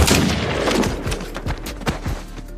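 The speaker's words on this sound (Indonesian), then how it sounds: "Melihat kesempatan, Jane pun menembak pria malang itu." Gunfire in a western film scene, with a few sharp shots and booming echoes over a dense, rumbling soundtrack.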